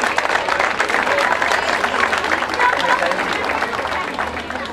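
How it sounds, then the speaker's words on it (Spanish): At a provincial artisans' fair in Rufino, the crowd gives sustained, loud applause, many hands clapping in a thick wash with a low hum underneath and a murmur of voices mixed in. "El aplauso para todos ellos, por favor"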